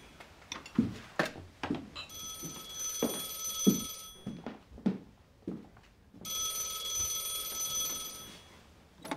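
A telephone bell rings indoors in two long, loud bursts separated by a pause, with scattered soft thumps and movement before the first ring.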